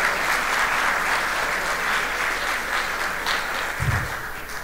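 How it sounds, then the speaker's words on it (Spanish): Sustained, steady audience applause rises from a forum crowd at the opening of a regional development event, a broad wash of many hands clapping throughout without a break. "Les brindamos un fuerte aplauso al Ministerio de Vivienda y Asentamientos Humanos y Habdeba"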